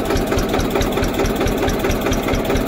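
An Eicher 241 tractor engine runs close by with a steady, rhythmic diesel chugging while the clutch is pressed and first gear goes in, no voices over it.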